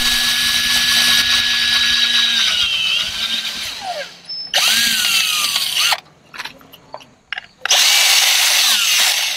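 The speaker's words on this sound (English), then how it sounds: "So let's start drilling, get it on there." Power drill boring into a Sea Eagle Fish Skiff 16 boat hull, whining loudly in several long bursts with pitch sagging under load, separated by short pauses and brief stops.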